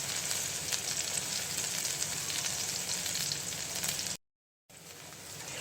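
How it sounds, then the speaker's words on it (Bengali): Chopped onions fry in hot mustard oil for a tengra fish curry, a close, continuous crackling sizzle that fills the clip, broken once by a brief total silence before resuming. "পেঁয়াজটা একটু ভেজে নিলাম"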